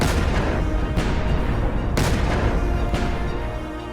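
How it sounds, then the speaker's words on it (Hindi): Gas-filled balloons bursting from a colour bomb at a haldi wedding ceremony: three or four sharp, loud booms about a second apart over a continuous rushing noise bed, with no voices. "हल्दी सेरेमनी में कलर बॉम्ब से गुब्बारों में धमाका हो गया।"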